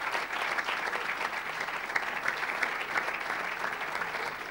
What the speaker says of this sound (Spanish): Un aplauso muy fuerte para todos los que componen el CAI Zaragoza.